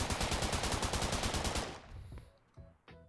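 Automatic gunfire rattles in a rapid continuous burst at an Unreal Engine 5 shooting range asset demo, then cuts off, followed by a few isolated shots and mechanical clicks.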